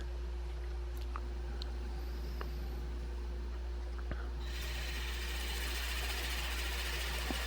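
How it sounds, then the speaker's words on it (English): A Forstner bit cleans out the inside of a maple and walnut lidded box spinning on a woodturning lathe: a steady low motor hum, joined midway by a louder, sustained hissing cutting noise with no talk. "we're going to use a Forstner bit just to clean it out"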